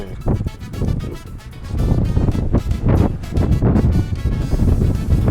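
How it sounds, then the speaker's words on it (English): Strong wind roaring and buffeting on the West Coast during a dive trip with a building swell, loud and continuous with gusty surges, rumbling close to the microphone. "The wind was really picking up."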